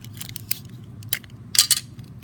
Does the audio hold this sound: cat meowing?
no